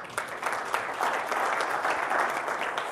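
Steady applause from a crowd, dense clapping filling the whole stretch at an even, moderately loud level with no voices.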